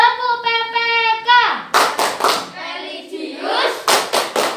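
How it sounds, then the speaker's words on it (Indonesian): Children in an Indonesian classroom clap a rhythmic chant in bursts, with a sung or chanted voice before the loud, close claps and children's voices mixed among them. "tepuk tangan untuk kita semua"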